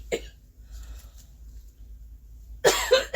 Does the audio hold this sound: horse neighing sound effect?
no